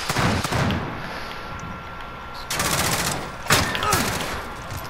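Rapid bursts of cannon and gunfire from a VTOL jet killstreak in Call of Duty: Modern Warfare, coming in several loud volleys over a steady battle din.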